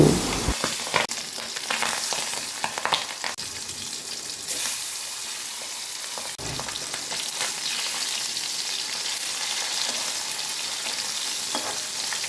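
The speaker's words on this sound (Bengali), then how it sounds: "তেল গরম হয়ে গেছে, এবার মাছগুলো এক এক করে কড়াইয়ে দিয়ে দেব।" Pabda fish fry in hot mustard oil in a wok with a continuous loud sizzle and a few clatters as the pieces go in.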